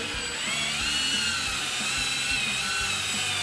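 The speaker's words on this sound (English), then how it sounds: "So we're going to use a machine polish." A machine polisher runs steadily on a pad with moderate pressure, giving a constant high, whining drone with a continuous, even loudness. Close to the microphone, with no talk.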